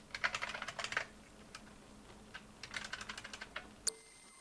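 Rapid typing on a computer keyboard, keystrokes coming in two quick bursts with a short quiet gap between them, close and clear with no talking, then a single sharper click at the end.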